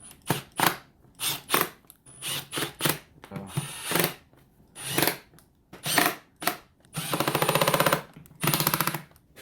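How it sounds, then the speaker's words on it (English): Impact driver removing screws on a 2018 Yamaha R6 motorcycle, heard as a series of short loud rattling hammer bursts close by, separated by pauses, ending in a longer sustained burst. "If you're going to use a impact, don't strip screws, please."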